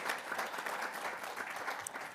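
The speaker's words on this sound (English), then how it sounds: "Let's give her another round of applause," An audience at a food security networking event claps in a dense, steady round of applause, moderately distant and sustained throughout without a break.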